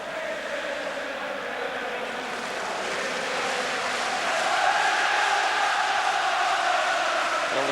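A football crowd at a 1996-97 Champions League match between Rangers and Auxerre roars as a broad distant wash of noise, swelling a little louder midway and holding steady.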